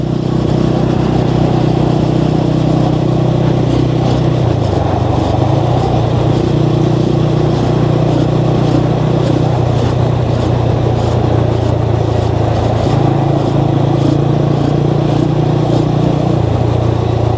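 Steady traffic on the NH 66 service road near Payyoli, a continuous loud engine drone of passing cars and motorcycles, with rising and falling revs and no pauses.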